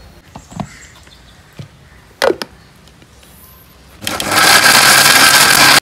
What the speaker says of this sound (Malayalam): ഒന്ന് മിക്സിയിൽ അടിച്ചെടുക്കാം.